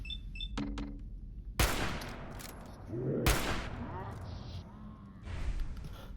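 Two sharp, loud gunshots in Fallout 4, one a sniper rifle, split by a few seconds and each decaying into echo, with a brief sigh-like voice sound among the game's background noise.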